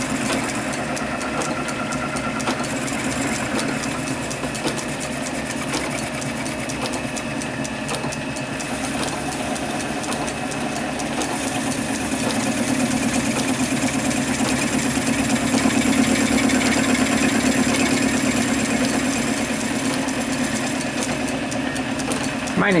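A lathe or similar machine tool takes a light cut of a few thousandths of an inch on a small model engine cylinder, producing a steady, loud mechanical drone with constant motor hum throughout.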